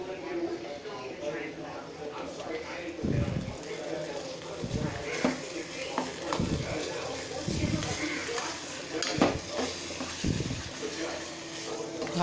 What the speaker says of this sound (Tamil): இப்போ நான் இந்த புளியை ஊற்றுறேன்